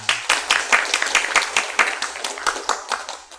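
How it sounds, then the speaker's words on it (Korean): A church congregation claps together during a Sunday service at a Methodist church, a steady run of close, crisp hand claps with no voices over them. "우리 서로 감사하다고 한번 박수해 주시기 바랍니다."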